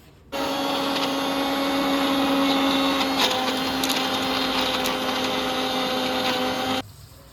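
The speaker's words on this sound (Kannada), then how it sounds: "ಜೀರಿಗೆ ಮತ್ತು ಕಾಳುಮೆಣಸು ಇದು ಹಾಕ್ಕೊಂಡು ರುಬ್ಕೋತಾ ಇದ್ದೀವಿ" A mixer grinder whirs steadily for about six and a half seconds, grinding cumin, black pepper and greens into a green paste; loud and close, with a motor hum starting abruptly and cutting off cleanly.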